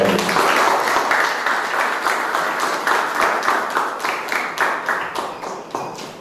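An audience at a Marathi music competition event applauds the judges with sustained, dense clapping that stays loud and steady throughout, then slowly thins toward the end.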